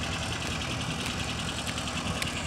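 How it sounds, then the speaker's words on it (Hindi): An Escort 335 tractor hauls a heavy load of wheat, its diesel engine chugging with a steady, loud, low rumble and continuous knocking throb, close and unbroken throughout. "एस्कॉर्ट देख लो लोड भी नहीं मानना"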